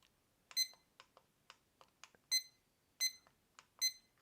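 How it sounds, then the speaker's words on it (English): Faint, short electronic beeps sound in a quick irregular series, some brighter and louder than others, in an otherwise quiet room. "beep still works"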